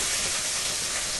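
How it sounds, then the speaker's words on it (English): Pasta water at a gentle rolling boil on a stovetop, giving a steady broad hiss and bubbling roar throughout, close and even with no talk. "My pasta is gently rolling boil here."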